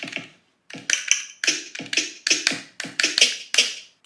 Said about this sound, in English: little click perk sound.